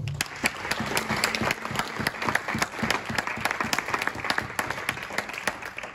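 A church congregation at a Sunday service bursts into steady, dense applause, many hands clapping in a continuous, fairly close wash with a few voices faintly mixed in.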